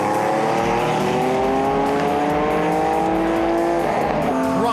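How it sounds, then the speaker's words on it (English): Race car losing its back end at a race circuit, engine note rising and falling with squealing tires as it spins off toward the gravel, loud and continuous alongside other cars. "Rob Gearing losing the back of his car, spinning it and heading off into the gravel"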